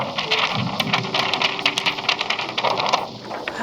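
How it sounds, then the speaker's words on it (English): A handheld prop thunder effect rumbles and rattles continuously, a dense crackling roar with scattered sharp pops, loud and close. "when you hold that up to a microphone, you'll get the real depth sound of the thunder"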